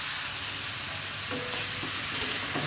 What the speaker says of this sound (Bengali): সাথে সকল মশলা দিয়ে কষিয়ে নেব সুন্দর করে